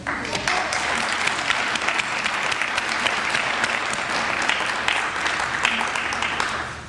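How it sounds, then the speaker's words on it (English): Steady applause from a crowd, dense clapping at an even level throughout without letting up. "So I'd like to have a round of applause for her."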